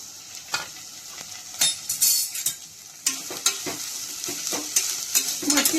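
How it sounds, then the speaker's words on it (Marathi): Sprouted moth beans frying in oil, a soft sizzle under repeated scraping and clinking of a spoon stirring in the pan, close and irregular. "मटकीला आधी तेलामध्ये छान फ्राय करून घ्यायचं"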